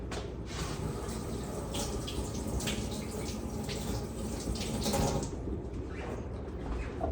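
Steady running tap water splashes continuously into a sink while carrots are rinsed under it, with light clinks and bumps mixed into the broad rushing hiss and no talking.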